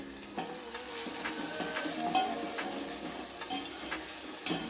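Green peas fry in a pan for a Maharashtrian potato and pea curry, with a busy close sizzle broken by sharp crackles and pops and faint stirring.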